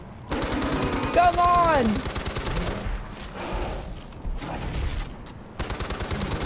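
Rapid automatic gunfire erupts in a Far Cry 4 fight, bursts of dense shots across the clip with a short break in the middle, loud and close, while a voice shouts briefly over it.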